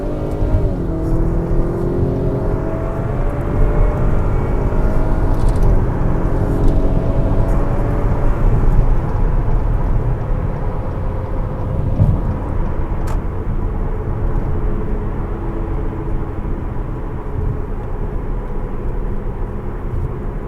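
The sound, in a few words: Acura RDX 2.0T with Stage 1 intake accelerating on highway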